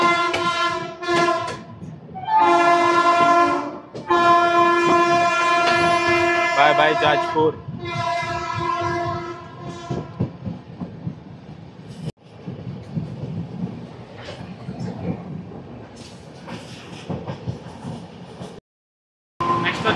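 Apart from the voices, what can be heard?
Shatabdi Express train departing Jajpur Road station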